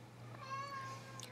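A house cat meows once in a drawn-out, clear call, close by over a steady low electrical hum.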